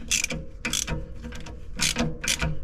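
A ratchet loosening a 12 mm brake line bolt on a 2003-08 Nissan 350Z during a coilover install, four close, crisp bursts of rapid clicking separated by short pauses, with no talking.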